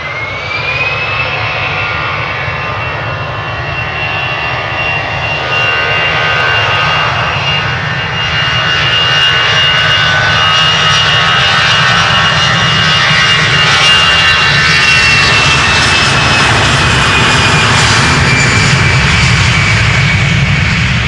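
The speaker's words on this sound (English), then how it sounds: "Okay, on its way to Manchester. EasyJet flight 22162." An EasyJet jet airliner taking off from Schiphol's Polderbaan runway, a loud close engine roar with a rising turbine whine that swells and holds strong throughout.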